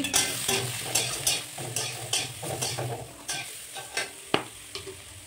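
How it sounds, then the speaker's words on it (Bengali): Mixed vegetables for a Bengali shukto fry in a pan with turmeric while a utensil stirs them, a steady sizzle under repeated rhythmic scraping strokes, close and moderately loud, ending with a sharp tap against the pan. "সমস্ত সবজি দিয়ে দিলাম একসঙ্গে।"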